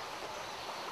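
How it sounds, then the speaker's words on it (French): Flowing river current along a restored stretch of French river, a steady broadband rush of water running continuously and fairly close, with no voices. "on a retrouvé une rivière courante, une section de rivière courante"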